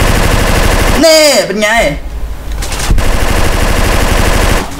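Steady automatic gunfire in GTA San Andreas during a gang shootout, loud and continuous, briefly interrupted by someone speaking before the rattling shots resume.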